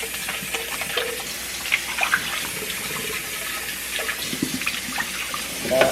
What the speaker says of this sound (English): Give this a rinse out.